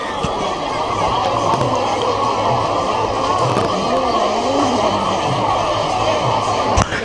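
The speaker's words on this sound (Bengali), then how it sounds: "মানুষের ভিড় দেখো এই সাইডে" A large crowd gathers at the Muri Mela riverside festival in Kenjakura, Bankura, making a dense, continuous murmur of many voices while someone nearby talks over it.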